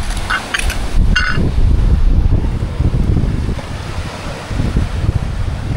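Strong ocean waves wash in against rocks on a sandy shore, a loud continuous roar of surf mixed with heavy wind buffeting the microphone, with no voices.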